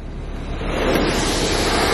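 Water spraying over a car at a car wash, a steady loud rushing hiss that swells slightly in the first moment and then holds constant, close by, with no voices.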